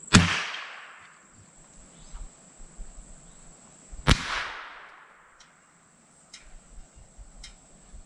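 Two sharp .22 rifle shots from a Mauser MAS45A training rifle firing Remington Thunderbolt ammunition at a solid plumbing screw target, each a loud crack with a decaying ring, about four seconds apart, followed by faint clicks.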